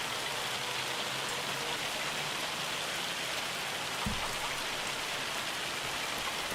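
Rain falls steadily in the video game Farming Simulator 25, a dense, even hiss of drops with no talk over it and a single brief low thump partway through.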